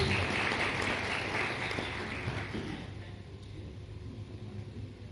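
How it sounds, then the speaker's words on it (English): Corporate event audience applauding in a hall, a dense steady wash of clapping that gradually thins and softens over several seconds. "can we have once again a round of applause for attitude of gratitude?"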